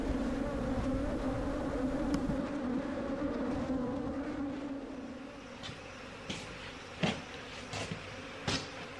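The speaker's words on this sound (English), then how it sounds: "Here, you can see Pete blowing out the bees from a super that is ready to be collected" Bees buzz loudly and steadily as they are blown out of a honey super during a harvest in Kenya, a dense insect drone broken near the end by a few sharp knocks.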